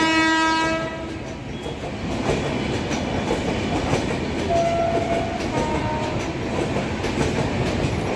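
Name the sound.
down train arriving at platform 4, heading to Sealdah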